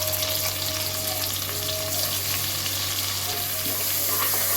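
Garlic, ginger, green chili and tomato sauté in a hot pan for hotel-style dal khichadi, giving a steady, dense sizzle that holds at an even loudness throughout with no talking.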